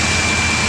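A Yamaha R1 sport motorcycle engine roars loud and close in a short, steady, broad burst, with no talking over it.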